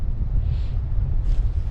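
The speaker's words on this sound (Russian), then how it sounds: "Но ветер не прекращался на секунду." Strong, steady wind of a snowstorm at a taiga lake roars across the microphone in a low, continuous rumble with gusty surges, with no voices present.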